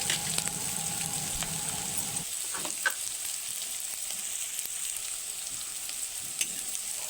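Peas and onions frying in a pan give a steady close sizzle, with soft stirring scrapes and a few light knocks, and no talking.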